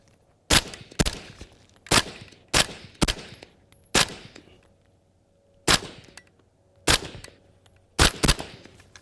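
A suppressed PWS UXR rifle firing 5.56 green tip ammunition outdoors: about a dozen sharp, close reports in pairs and singles, spaced irregularly, each followed by a short ringing decay.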